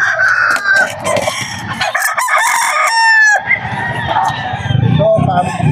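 Pumpkin Sweater gamefowl stag rooster crowing loudly and close at a busy pet market, with clucks from other fowl and crowd chatter around it.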